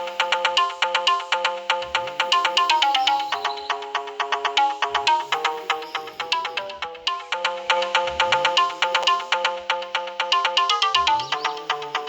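Bright, tinkly melodic loops play as the character sound of Sprunki Pyramixed in a Sprunki 3D animation game. The synth tones are steady and rhythmic, with low thumping accents, repeat in two similar cycles, and come through clearly with no talking.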